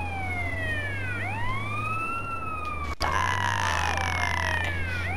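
Ambulance siren in GTA San Andreas, a loud wailing tone sweeping up and down repeatedly over a low engine hum, briefly interrupted by a sharp thud before continuing.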